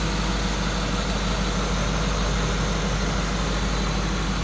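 A 2002 Ford Mustang GT with a manual gearbox, 4.6L V8 and K&N intake idles steadily and smoothly, a dense continuous engine rumble with no talk over it.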